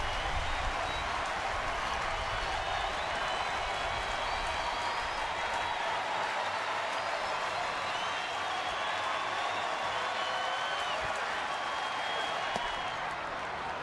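A sellout baseball crowd at the stadium in Arlington fills the air with a continuous, broad roar of applause and murmuring, steady and fairly distant, with no clear voices standing out.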